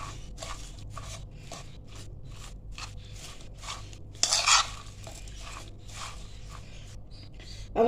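Whole cumin seeds and red chili powder being mixed into cabbage for cabbage pakoras, with steady rhythmic scraping and crunchy strokes repeating every third of a second or so, close by, plus one brighter rustle midway and no talk.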